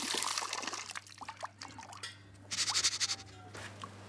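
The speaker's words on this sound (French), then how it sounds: "On finit de nettoyer les bonnes graines dans la passoire sous un jet d'eau." Pepper seeds rinsed in a strainer under a running jet of water, with splashing and trickling that comes in uneven bursts, including a louder stretch of gushing, then dripping.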